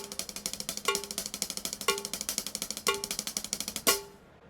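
Rapid 32nd-note triplet clicks at 60 beats per minute, a steady even stream of sharp ticks with a brighter accented tone marking each one-second beat, ending with a final accent that rings out.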